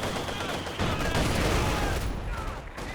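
Grenadier rifle and machine-gun fire in the Company of Heroes 2 video game, dense rapid crackling bursts of gunfire filling the mix, with a commentator talking faintly underneath.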